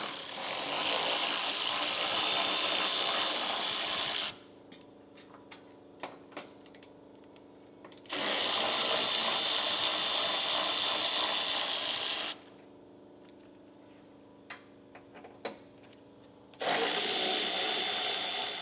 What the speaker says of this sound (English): remove these 4 bolts from both sides. It's going to be 13mm socket I'm using.